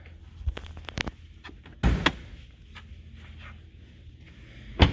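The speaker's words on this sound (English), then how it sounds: "Opening up the door." Door of a 2022 Range Rover V8 long-wheelbase edition with shaved, pop-out handles being opened, giving a few muted latch clicks and a soft thunk against a quiet background, with no talking.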